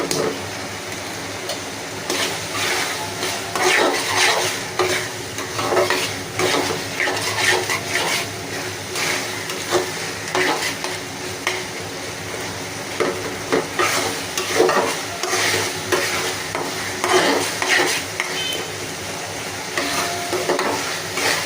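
Cox's Bazar dried fish (shutki) fries in a pan with coriander leaves and green chilies, giving a continuous loud sizzle with repeated scraping and stirring strokes throughout.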